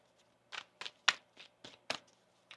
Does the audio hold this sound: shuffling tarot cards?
yes